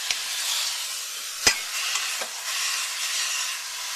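Pork searing in a hot pan for pulled pork sandwiches, a steady broad sizzle throughout with a few sharper spits and pops, close and continuous, no voices.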